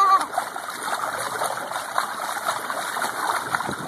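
A child kicking their feet in a small backyard pool sends up steady, moderately loud splashing and churning water for a few seconds, with no voices heard.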